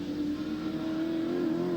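Touring race cars howl past at the 1986 ATCC round at Winton, a loud sustained engine note rising slightly in pitch as the cars accelerate by, with no voices.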